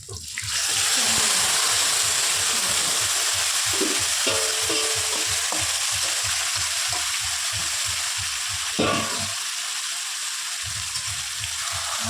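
Meat tipped into a hot pan and stirred for a Bengali curry, a loud, steady sizzle that stays high throughout while a spoon scrapes in quick repeated strokes, with a brief lull near the end.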